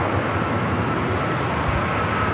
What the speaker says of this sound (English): This is American Airlines 2135 taking off to Orlando on an A321neo.